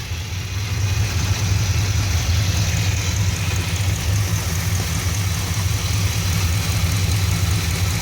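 A Ram 1500 pickup engine running steadily with a deep, loud, constant low rumble and drone, close by, no talking.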